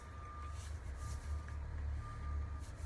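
A truck's reversing beeper sounds in a steady repeating pattern over a low diesel engine rumble, moderately close.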